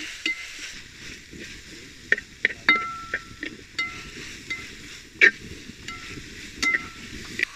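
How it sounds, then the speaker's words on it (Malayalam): Onions sauté in a pan for a rabbit roast, a soft steady sizzle broken by scattered clinks and scrapes of a spoon stirring against the metal. "സവാള നല്ലോണം വഴണ്ടേ നല്ല ഗോൾഡൻ കളറാവണം"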